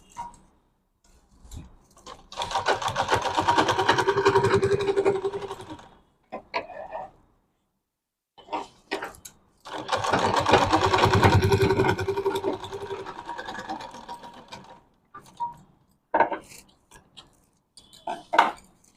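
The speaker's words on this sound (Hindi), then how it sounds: "इस तरह से इसको करके यहाँ से हम दाब सिलाई लगा देंगे" A sewing machine stitches a medium-size bag in two long, loud, steady runs with a whirring buzz, separated by short stop-start bursts and pauses, with no talking.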